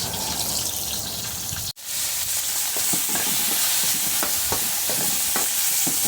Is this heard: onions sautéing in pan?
yes